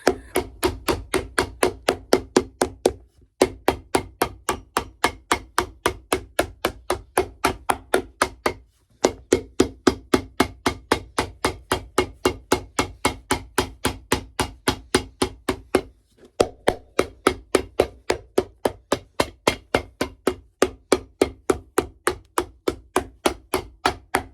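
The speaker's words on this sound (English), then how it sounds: "All right, hammer time." Steady, rhythmic hammer blows drive a leather midsole onto a 1962 Bally hiking boot, close by, pausing briefly a few times before resuming the same even pace.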